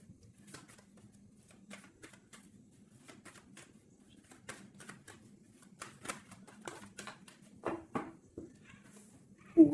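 A deck of tarot cards is cut and shuffled, giving a run of soft papery riffles and taps that grow busier and louder toward the end over a low steady hum.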